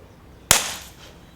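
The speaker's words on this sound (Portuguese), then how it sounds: "Essa é uma bombinha de baixa potência, ela não é muito forte, então eu vou estourar ela." A single low-power firecracker bursts with one sharp, loud crack that trails off into a brief fading rumble, with quiet before it.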